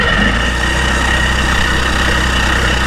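An old boat outboard motor runs loud and steady, a close continuous engine drone with a low rumble and constant vibration.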